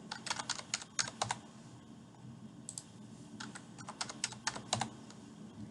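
An administrative password is typed on a computer keyboard in quick bursts of crisp key clicks with short pauses between groups, close and clear, with no speech.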